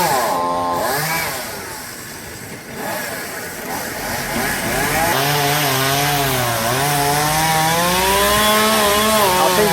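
Chainsaw cutting a branch off a tree: a loud, close engine whine that rises and falls in pitch as it revs and bites into the wood, running almost continuously.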